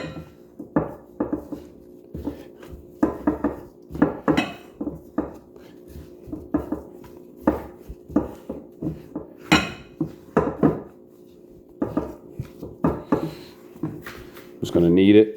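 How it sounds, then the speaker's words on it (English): Japanese milk bread dough is kneaded by hand on a work surface, making a steady series of soft, close thumps and knocks roughly every half second to a second, with a few louder clatters near the end. "Just going to knead it."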